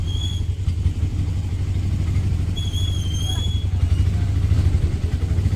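A small auto rickshaw engine drones loudly and steadily with a low, chugging rumble, straining continuously up a climb, with a faint high whine above it.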